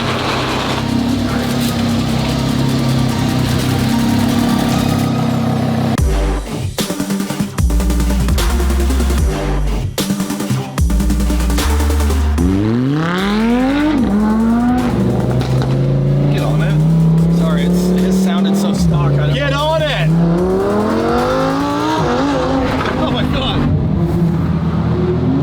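A Lamborghini revs and accelerates hard, its loud engine note sweeping up through the gears and dropping between shifts, continuous and close throughout, with speech mixed in.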